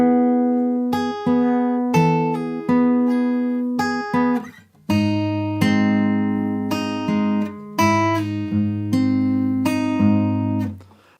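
Guitar plays the first line of a song slowly, clear plucked notes and chord strikes ringing in a steady rhythm, close and alone with no talk.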